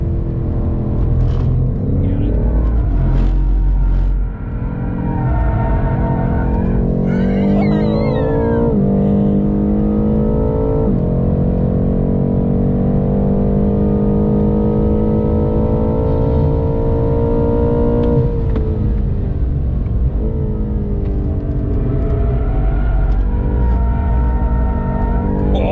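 BMW M8 accelerating down Hangar Straight at Silverstone, heard from inside as the engine note climbs steadily through the gears over a constant road rumble, with brief shift dips and a few voices chatting.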